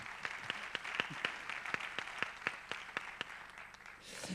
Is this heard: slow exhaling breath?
no